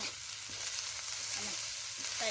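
Fried rice with Chinese sausage and spring onion stir-fries in a hot pan, a constant bright sizzle with a few soft stirring knocks, close and alone.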